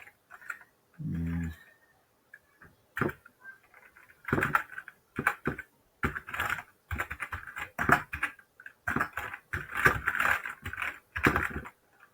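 Fingers typing on a computer keyboard while filling in a name on a form, with irregular bursts of sharp close clicks separated by short pauses, growing denser toward the end.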